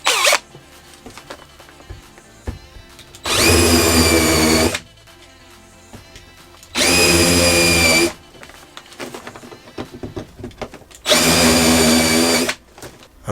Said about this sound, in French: je vais fraiser les trous avec ça pour que la tête de vis puisse rentrer dedans